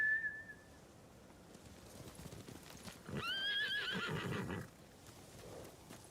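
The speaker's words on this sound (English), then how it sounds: "Bastards scared off the horses." Horses in the video game Ghost of Tsushima whinny over a faint background, with a sharp whistle early on and a louder, drawn-out neigh midway, with no talking.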